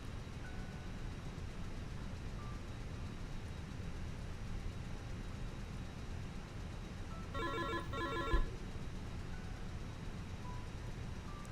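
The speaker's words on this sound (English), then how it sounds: "The phone is ringing." A telephone rings once inside a flight simulator cockpit. The short, trilling burst sits over a steady, constant background hum.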